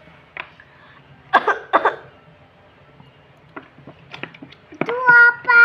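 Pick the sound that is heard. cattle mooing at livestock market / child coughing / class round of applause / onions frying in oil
child coughing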